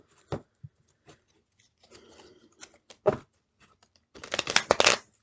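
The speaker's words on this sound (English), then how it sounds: "These cards are hard to shuffle." Thick tarot cards being shuffled by hand, giving brief crisp riffling bursts near the start and middle and a longer, denser riffle of card flutter toward the end, close and fairly quiet.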